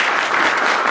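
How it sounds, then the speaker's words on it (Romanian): Audience applause at a book launch held in a library, a brief, loud, close burst of many people clapping together in a dense, even patter. "vă rog să-l aplaudați."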